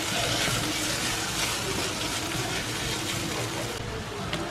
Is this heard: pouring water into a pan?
yes